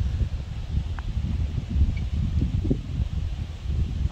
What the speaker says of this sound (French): J'entends le vent dans la forêt, sur les reliefs.